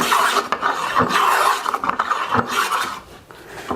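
A hand plane, not sharpened for weeks, takes heavy jointing cuts along lumber, giving several close, loud rasping strokes in a steady back-and-forth rhythm, each a coarse scraping swoosh, with no talk.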